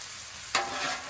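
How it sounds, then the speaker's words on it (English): A copper scraper makes one quick scrape across a hot griddle cooking ribeye fried rice, against a steady soft sizzle. "I like using this copper scraper."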